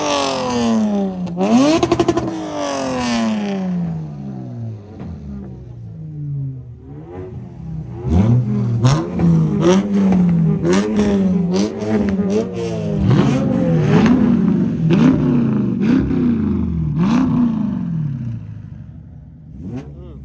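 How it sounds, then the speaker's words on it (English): JDM cars revving their exhausts at a car meet in Japan, a loud series of close, rising and falling engine revs with sharp bursts, one after another throughout. "They don't play with them exhaust down here, man."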